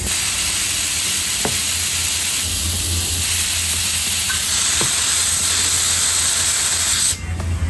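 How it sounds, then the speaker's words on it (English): Air compressor at about 100 PSI blasting air into a Gotrax GX3 scooter tire fitted with an off-road tire to seat the bead, a steady loud hiss running throughout with a couple of faint clicks, cutting off abruptly near the end. "Quickly force the air into the tire."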